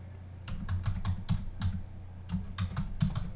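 Fingers type on a computer keyboard in a steady stream of crisp, close key clicks with brief irregular pauses, and no talking is heard.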